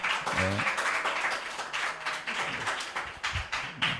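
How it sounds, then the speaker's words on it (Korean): Thank-you applause from a youth group at a Sunday church service, a dense, fairly loud round of clapping lasting several seconds, with a brief voice at the start. "감사하다는 박수"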